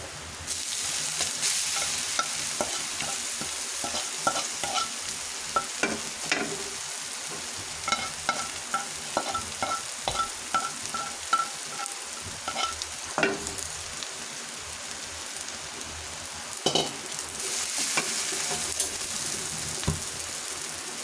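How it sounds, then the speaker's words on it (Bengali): Leafy greens fry in a pan with a continuous close hiss and sizzle, broken by frequent stirring scrapes and utensil knocks, without any talk. "আমার শাক ভাজা হয়ে গেছে।"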